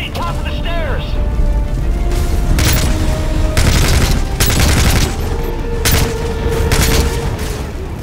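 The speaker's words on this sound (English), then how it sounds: "Fox, French, lay down cover fire!" Loud, close gunfire crackles in sustained bursts as covering fire in a Call of Duty Modern Warfare 3 courtyard battle, with rattling weapon mechanisms and booms and shouted voices mixed in.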